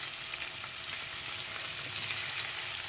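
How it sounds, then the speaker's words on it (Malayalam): Small marinated fish fry in hot coconut oil in a pan, giving a faint, close, continuous crackling sizzle with a fine hiss and no talk. "നമുക്ക് ഫിഷിന് ഇട്ട് വറുത്തെടുക്കാം"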